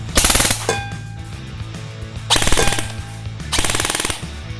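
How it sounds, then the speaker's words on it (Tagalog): A King Arms M4 airsoft electric rifle on the repair bench fires three full-auto bursts, each a loud rapid mechanical rattle of about a second, with short pauses between them and a steady motor hum beneath. "Testing yung full auto. So, ito na. Okay, firing."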